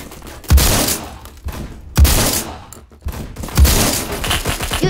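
Gunfire in the Roblox shooter Phantom Forces comes as three loud, close bursts about a second and a half apart, each one a rapid cluster of sharp shots that fades between the bursts.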